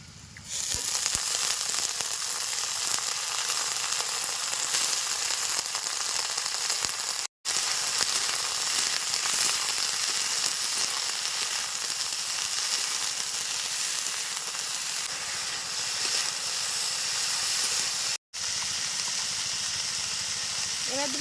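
Steady, loud sizzling from vegetable stems, potato and onion frying in a hot pan, a continuous crackling hiss that runs almost unbroken from start to finish.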